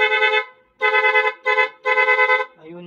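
A horn wired with an interrupter relay honks in a series of interrupted blasts, one, a long pause, then three quick pulses, loud and close, before a brief voice.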